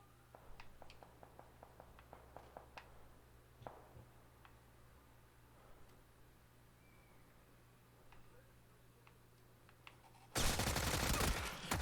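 Gunfire in a video game starts as a string of faint, quick shots and clicks over a low hum, then ends in a sudden loud burst of heavy firing during the last second or so.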